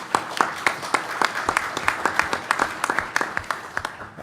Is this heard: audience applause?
yes